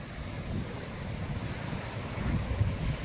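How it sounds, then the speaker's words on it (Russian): Sea surf rolling onto a beach near Anapa in early April evening, a steady low rumbling wash of waves with wind buffeting the microphone, swelling slightly louder toward the end. "Ну и вот так выглядит море."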